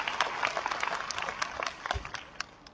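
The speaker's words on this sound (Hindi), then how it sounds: "एक बार जोरदार तालियों के साथ स्वागत।" Applause at a formal Uttar Pradesh power corporation event, greeting a guest on stage: a moderate patter of claps throughout, fairly even and a little distant, with no talk over it.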